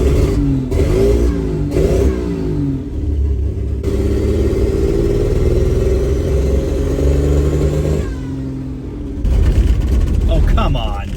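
An engine fitted with an Aces Killshot throttle body, running rich, revs up and down in loud rising and falling surges with a steady rumbling idle between, while a person talks over it.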